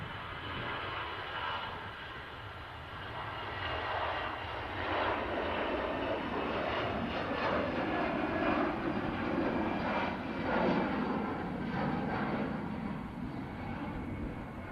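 An EasyJet jet or an ATR turboprop passing at Manchester Airport, a loud, sustained engine roar with a broad rushing quality that builds and stays strong throughout, heard from outdoors.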